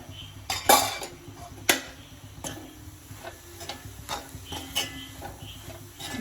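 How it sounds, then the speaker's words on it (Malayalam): Egg and taro-leaf thoran stirred in a pan, with a scattering of light metallic clinks and taps of a spoon against the pan at an irregular pace, close and fairly quiet. "അതിന് നമുക്ക് തുറന്ന് ഇളക്കി കൊടുക്കാവേ"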